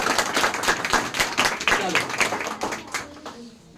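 A class of students claps hands together in a dense, rapid burst of applause that fades out near the end, with a brief spoken word at the start.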